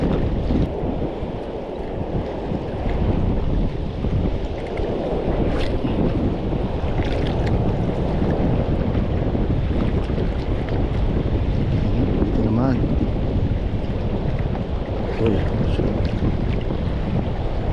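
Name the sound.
wind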